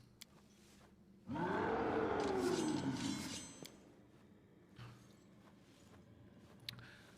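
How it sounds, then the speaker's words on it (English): A Balor demon in Pathfinder: Wrath of the Righteous gives one long, loud, deep roar that rises and then fades over about two seconds, followed by quieter rumbles and faint background sounds. "If my hearing serves me right, that's the roar of a Baylor."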